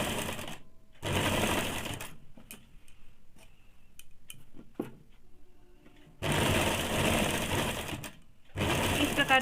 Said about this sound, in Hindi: इस प्रकार से पूरे में सिलाई डाल देंगे।